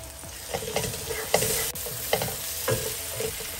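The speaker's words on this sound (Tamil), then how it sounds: "எல்லாத்தையும் மிக்ஸ் கொடுத்து எண்ணெய் பிரிஞ்சு வரட்டும் அந்த மசாலாலேருந்து" Soya chunks being stirred through spice masala in hot oil: a steady sizzle of frying runs throughout, broken by repeated scraping strokes of a spoon against the pan at an irregular rhythm, close and moderately loud.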